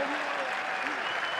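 Stadium crowd applauding Pippo Inzaghi's football team, a steady dense roar of clapping with faint chanting from the stands, sustained at an even level throughout.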